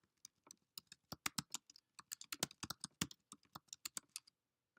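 Someone types a search on a computer keyboard in quick, irregular bursts of crisp key clicks. The clicks are close and quiet, with no talk.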